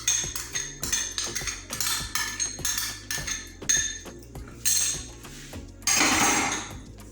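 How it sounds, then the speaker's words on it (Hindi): Repeated clinks and scrapes of a spoon against a bowl as dry ingredients, salt and ghee are mixed, close and fairly loud in an uneven rhythm, with no talking. "इन सब चीज़ों को अच्छे से मिक्स कर लेंगे।"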